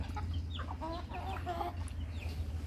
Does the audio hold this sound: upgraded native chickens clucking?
yes